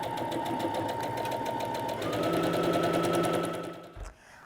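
A sewing machine back stitches a seam on a fabric grocery tote, whirring steadily close up, the pitch shifting as it reverses, then stopping with a soft clunk.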